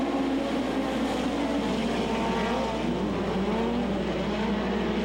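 Midget race cars roaring around a dirt oval during a 15-lap event, a dense, continuous engine howl from several cars at once, loud and unbroken with no voices.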